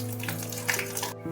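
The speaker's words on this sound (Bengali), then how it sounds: "ভালো করে একটু ভাজা ভাজা করে নিতে হবে" Whole cumin seeds fry in hot mustard oil with green chillies and a bay leaf, giving a soft, brief sizzle under steady background music.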